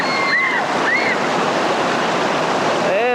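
Whitewater rapids on the Ocoee River rush loud and close around a raft, a constant roaring wash with brief whistling tones and a voice shouting over it.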